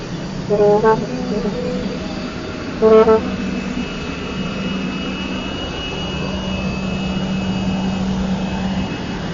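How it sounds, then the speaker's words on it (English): A presidential flight departs the RRA airport, its jet engine roaring loud and steady throughout, with two short horn-like toots near the start. "here you have the flight departing already from the RRA"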